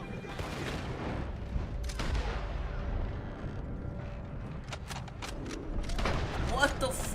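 Gunshots crack in Red Dead Redemption 2, a few sharp reports and rapid bursts amid a busy rumble of game noise, with people talking over the action.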